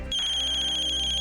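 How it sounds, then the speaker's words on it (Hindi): A telephone ringtone sounds in a home in a crime drama, a loud, steady electronic tone that repeats in quick pulses with no talk over it. "किसका फोन है अम्मी?"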